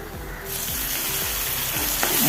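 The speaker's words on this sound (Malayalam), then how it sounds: "രണ്ട് ചെറിയ തക്കാളി അരിഞ്ഞത് ചേർത്ത് കൊടുക്കുക" Chopped tomatoes hit a pan of softened onion for a kabuli chana curry, setting off a loud, close, continuous sizzle that swells with a regular beat of stirring underneath.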